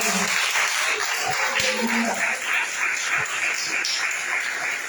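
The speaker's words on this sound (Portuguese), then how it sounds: "Nós recebemos com palmas" A church congregation claps to welcome Bishop Wilson, a thick, continuous roll of hands at fairly close range, with voices heard under and through it.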